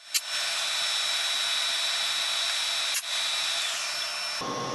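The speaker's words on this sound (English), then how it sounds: "come down with an end mill and flatten off the top of that stud" End mill flattening the top of a stud during a T14 turbo repair for a 1964 Caterpillar D8H dozer, a steady high-pitched machining whine with a couple of brief clicks, loud and alone.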